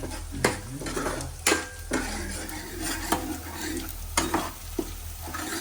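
Dal fry cooks in a pot on a home stove, a spoon scraping and knocking against the metal in irregular strokes over a steady low sizzle, close and clear with no talk.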